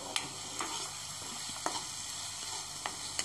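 Onions with ginger-garlic paste frying in oil for a paneer gravy, a faint steady sizzle with a few light ticking stirs, quiet and near.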